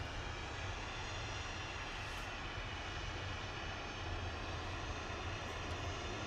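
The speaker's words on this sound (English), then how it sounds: "So EasyJet rolling in the background to Nice." An EasyJet airliner taxiing at Manchester Airport, a steady distant jet engine whine and rumble that holds constant throughout with no talk over it.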